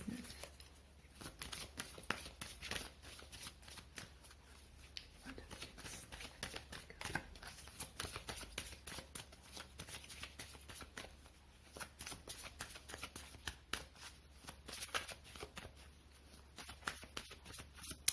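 Tarot cards being shuffled by hand, soft rapid riffling and patter repeating in bursts, quiet and close, with no talking.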